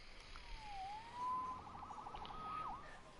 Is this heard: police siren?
yes